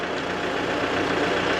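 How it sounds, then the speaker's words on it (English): Ford 6.0 diesel truck engine idling with the throttle wedged open, a steady, loud, continuous rumble that holds even for the whole stretch with no talk over it. "Got a 2x4 wedged up against the throttle. Hopefully that's enough to get that alternator cranking."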